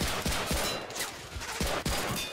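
Machine gun fire in Medal of Honor: Pacific Assault, a run of sharp loud gunshots in quick irregular bursts over noisy battle ambience, without talk.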